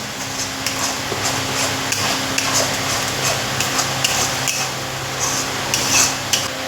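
A pan of food, with dry roasted gram flour about to be added, is stirred constantly over lowered heat: a steady, busy scraping and clinking of utensil on metal, with light sizzle beneath, continuous and fairly close with no talk.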